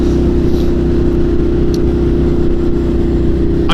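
A 2014 Ducati Monster 1200 engine running loud and close, a dense, steady throb with a rough mechanical rumble that holds at an even level without pause.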